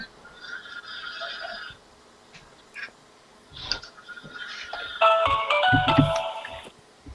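A phone ringtone chirps in repeated electronic bursts, pausing briefly, then a busier, louder run of warbling tones near the end, with no talking.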